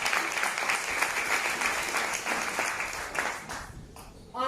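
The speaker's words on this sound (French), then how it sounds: "un tonnerre d'applaudissements pour ma upline" An audience applauds at a testimonial gathering, a steady dense clatter of many hands clapping that fades out near the end.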